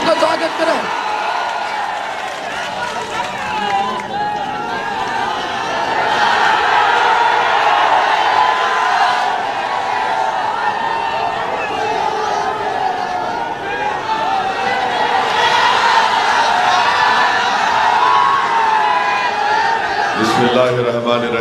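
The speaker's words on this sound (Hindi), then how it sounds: "जोरदार तालियों से बैरिस्टर साहब का स्वागत करें" A large crowd at an AIMIM political rally welcomes Barrister Asaduddin Owaisi in Kishanganj with sustained applause and cheering, a steady roar of clapping and shouts lasting throughout.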